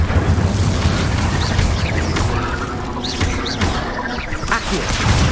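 Incendio fire spell cast in Hogwarts Legacy, a dense roaring burst of flame and crackling magical impacts layered over rumbling combat noise, loud and continuous, without talk.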